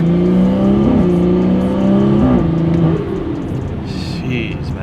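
A car engine revs loudly and close, its pitch climbing and falling in strong harmonic sweeps for about three seconds before dropping back to a lower, steady drone.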